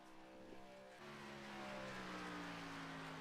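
A NASCAR truck engine in the iRacing video game at Talladega drones steadily at high revs, its tone shifting upward midway as the pitch climbs, loud and continuous with no talk over it.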